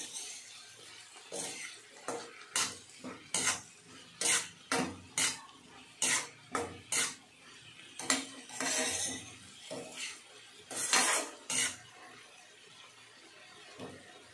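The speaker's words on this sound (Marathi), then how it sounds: "आता हे छान परतून घेते।" Green tomato sabji with jaggery sautéed in a pan, a spatula knocking and scraping against the metal in a steady series of close, fairly loud strokes with short pauses between them.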